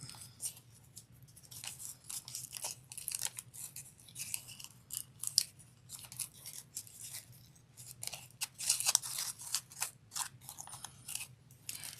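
Paper being accordion folded for a Dollar Tree Valentine's wreath, with repeated close crisp creasing and crinkling strokes in an uneven rhythm over about twelve seconds, no voices.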